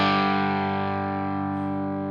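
A clean electric guitar tone from a Line 6 Helix 3.50 preset rings out as a single sustained chord that slowly fades, heard alone and up close.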